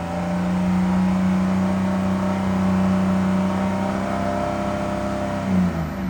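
A 2006 Ford 6.0 Powerstroke diesel held at a fast idle around 3,300 to 3,500 RPM, its steady droning engine note running rough, with a slight dip and wobble in pitch near the end as the throttle is let off.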